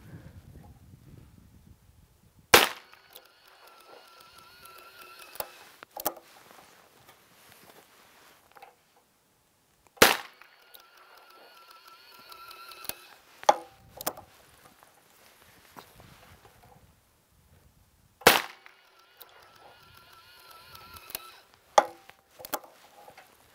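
Colt Python .357 Magnum revolver firing handloaded light plinking rounds from a ransom rest, sharp loud gunshots spaced several seconds apart with short metallic clicks and handling noises between them, no talk.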